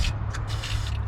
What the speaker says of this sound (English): now I'm just wanting to spray the bolt heads